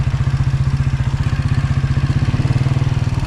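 A motorcycle engine runs steadily with a fast, even pulsing beat on a riding-school practice track, loud and close throughout with no talk.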